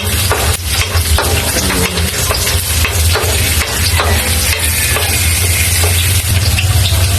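Onions fry in a pan for stringbean adobo, a loud, continuous sizzle with occasional utensil clicks and stirring scrapes, under a steady low hum.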